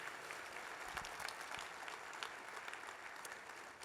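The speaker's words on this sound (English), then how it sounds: "Can we give them a round of applause one more time, please?" Steady applause from a breakfast event audience, clapping continuously and evenly throughout at moderate loudness, with no voices on top.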